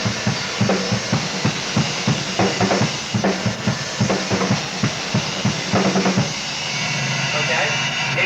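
Drum kit fill built on three-note groupings played right, left, left at a drum clinic, a rapid run of close, punchy strokes across the drums with a steady rhythmic pulse, ending in a sustained ringing wash.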